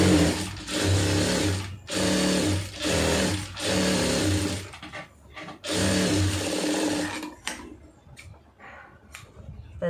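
An electric sewing machine stitches a cotton lining blouse in several close, loud bursts of rapid whirring, separated by short pauses, before stopping and leaving small handling noises.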